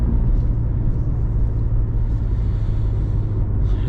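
An Infiniti Q50 all-wheel-drive car without a differential, driven hard in the early morning, heard from inside as a steady, loud low engine rumble and road drone with no break.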